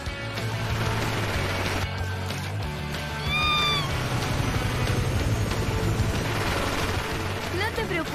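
A kitten meows a few short, high cries in a Spanish-language Paw Patrol cartoon. The cries sit over busy, loud background music and action sounds that run through the whole scene.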